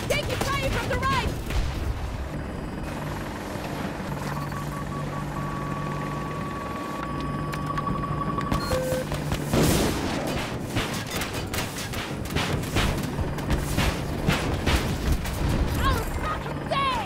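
An Apache attack helicopter in Battlefield 2042 drones steadily with continuous rotor and engine noise, mixed with scattered bursts of gunfire and explosions through the second half, under a busy battlefield soundscape with some speech.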